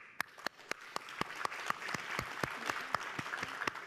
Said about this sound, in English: Please join me to give them a round of applause.